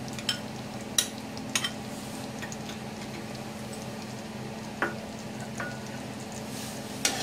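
Paneer pieces go into a simmering shahi paneer gravy in the pan, soft steady sizzling with a few light taps and plops scattered throughout, fairly quiet and close.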